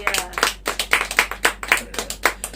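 Church congregation clapping hands in a steady, lively rhythm, about ten crisp claps in under three seconds, close and fairly loud with no talk over it.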